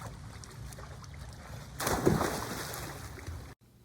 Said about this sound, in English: So I'm going to dive through the ring.